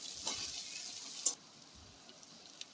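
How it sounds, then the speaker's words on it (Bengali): Onions hit hot oil in a pan for an egg and taro-stolon dish, giving a steady close hiss that drops to a fainter sizzle after a sharp clink midway. "তেল গরম হয়ে গেছে, পেঁয়াজগুলি দিয়ে দেব, দিয়ে ভালো করে পেঁয়াজটি ভাজা করে নেব।"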